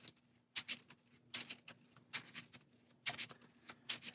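A deck of cards for the Marvel Champions card game is riffled and shuffled in several quick bursts of crisp flapping, close and quiet, with short pauses between each pass.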